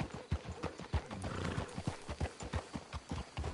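Horses in a Rockstar video game clop along with a steady rhythmic beat of hooves, close and clear, while a whinny rises briefly in the middle.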